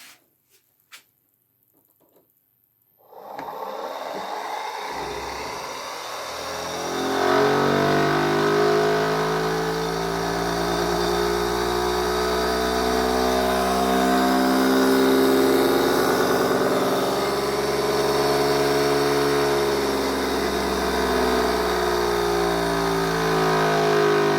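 After a few seconds of near silence, a motor starts up and runs with a steady, droning hum that rises slightly and holds.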